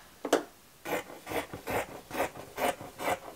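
Scissors snipping through excess quilt wadding, a quick series of about eight crisp, close cuts in a steady rhythm, with no talking.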